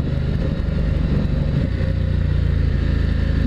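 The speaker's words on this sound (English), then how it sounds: "See if it works on the downshift if I just blip the throttle and don't use the clutch." Ducati XDiavel motorcycle engine droning steadily nearby, with a brief throttle blip on a clutchless downshift using the quickshifter, no talking.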